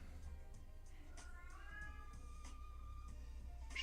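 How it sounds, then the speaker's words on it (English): A pet cat meows softly a couple of times, faint and somewhat distant, over quiet room tone indoors. "And you could probably hear my cat."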